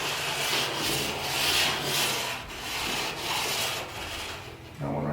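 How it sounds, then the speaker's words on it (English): A stud finder's magnet scrapes along an interior wall, a steady dry rubbing hiss that rises and falls in pulses as it is dragged, ending with a faint knock. "Another great feature of this revealer is they've got a magnet on the back for finding studs. So we're just going to drag along the wall."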